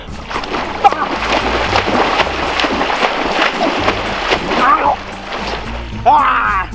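Water splashes as someone swims during a swimming lesson, a continuous churning slosh with sharper bursts of spray, close and fairly loud, with voices in the background.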